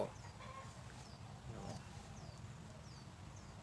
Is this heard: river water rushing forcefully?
no